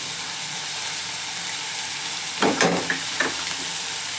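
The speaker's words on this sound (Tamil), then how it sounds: "இப்போ பீன்ஸ் சேர்க்குறேன்." Green beans tipped into a frying pan of oil while making vegetable puff filling, with a constant soft sizzle and a brief burst of louder crackling and clatter as they land.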